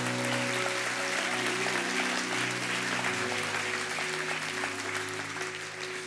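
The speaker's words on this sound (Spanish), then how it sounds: "O dar un aplauso a Dios." Church congregation applauding during a Spanish-language sermon, a steady wash of clapping under sustained organ or keyboard chords that continue throughout.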